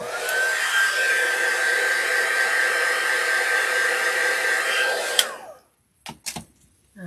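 A hair dryer blows steadily on wet paint for about five seconds with a constant whooshing roar and a high whine, then cuts off abruptly, followed by a few brief clicks and taps in near silence.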